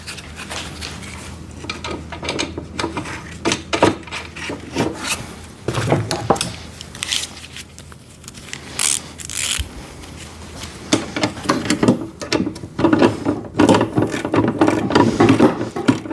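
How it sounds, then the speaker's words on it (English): Ratchet and 17mm wrench tightening the wheel nuts on an Albott electric drain cleaner machine, with irregular clicking, rubbing and metallic handling noises in bursts throughout, busier toward the end. "So using a ratchet and a 17mm wrench on the other side."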